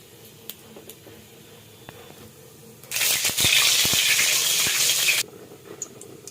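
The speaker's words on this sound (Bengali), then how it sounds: "একটা শুকনো লঙ্কা দিচ্ছি, জিরে ফোড়ন দিচ্ছি, কালো জিরে ফোড়ন দিচ্ছি" A dried red chili with cumin and black cumin seeds drops into hot oil, setting off a loud sudden sizzle that hisses for about two seconds before cutting back to near quiet.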